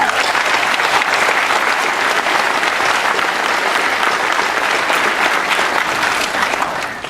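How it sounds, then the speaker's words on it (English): A large crowd at a high school graduation claps loudly and steadily, a dense sustained patter of many hands that begins to fade at the very end. "that deserves another round of applause, so let's give it to them"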